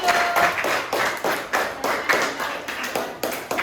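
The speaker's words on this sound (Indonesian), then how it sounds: "tepuk tangan untuk kelompok membantu" Classroom audience of students and a teacher applauding a student group, heard as a run of separate, fairly even claps and taps at a steady moderate pace, close and clear with no talking over them.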